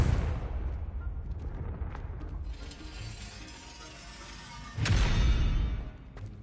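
Confringo explosive spell cast in Hogwarts Legacy, a loud blast and crackling whoosh at the opening, a quieter rumbling stretch, then a second sharp explosive burst near the end.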